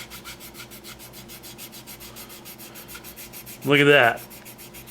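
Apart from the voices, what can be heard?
sanding stick sanding primed model surface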